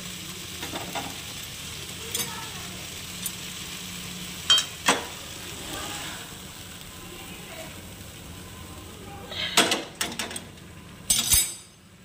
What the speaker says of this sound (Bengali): এইবারে আমি নামিয়ে নেব, ঢেলে নেব।